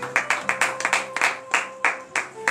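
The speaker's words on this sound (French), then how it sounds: "Donnez de vive acclamation à notre Seigneur Jésus." A church congregation at a Saturday morning prayer service in Benin claps in a steady, rhythmic beat of sharp, close hand claps, with no talking over it.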